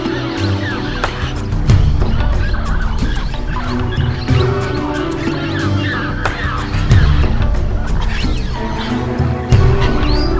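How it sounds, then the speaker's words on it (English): Blue-headed parrots squawk and call repeatedly in the Peruvian jungle over a busy, noisy background, the harsh cries overlapping at close to moderate distance. "as Dario had predicted, at 6 o'clock sharp, the first birds arrive."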